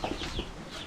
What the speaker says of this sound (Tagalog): Tignan natin yung ibang mga manok natin.